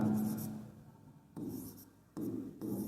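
Writing on a board during a chemistry lecture: bursts of scratchy, close stroke noise, a long one at the start and then several shorter ones separated by brief pauses, with no talking.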